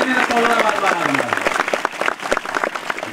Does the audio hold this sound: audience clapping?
yes